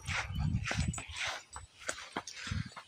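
Small dogs bark in quick, loud bursts with a few whimpering yips between, close by and without talk.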